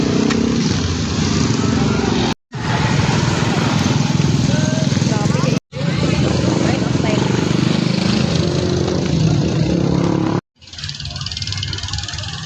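Steady motor traffic on a busy highway during a town fiesta in Talisayan, continuous engine drone of passing motorcycles and cars with brief cutouts, people talking over it.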